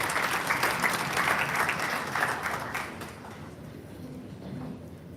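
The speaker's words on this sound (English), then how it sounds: "together a round of applause" Applause from an audience at a formal launch ceremony for an occupational health and safety strategy: dense, steady clapping for about three seconds, then thinning into scattered claps and murmuring.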